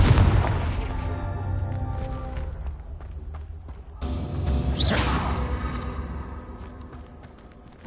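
Fiery Confringo blasting spells from a Harry Potter video game erupt in repeated whooshing booms, loud and close, with one big burst midway and swishing magic effects between, layered over busy game ambience.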